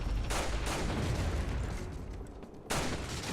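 Gunfire in the video game Resident Evil 4, a pistol firing: loud, dense cracks and booms that fill the short stretch, with a brief dip before another strong burst.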